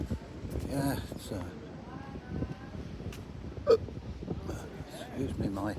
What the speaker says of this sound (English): excuse me, my hiccups